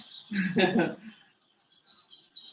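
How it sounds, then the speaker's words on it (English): Birds chirp outdoors in spring, high thin calls appearing faintly after a burst of talk, with a few short repeated chirps near the end. "Hear those birds? That's a good sign, must be spring."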